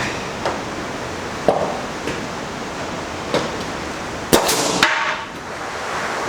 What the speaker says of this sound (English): let's finish nailing this in.